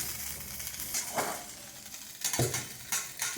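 Curry leaves frying in a pan, a soft crackling sizzle with occasional stirring scrapes and clinks of a utensil against the pan, fairly quiet and without talk.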